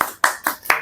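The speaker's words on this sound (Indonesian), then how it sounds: "Tepuk tangan deh." Hands clapping close by during a talk session, four sharp separate claps in a loose rhythm roughly a quarter second apart, with nothing else under them.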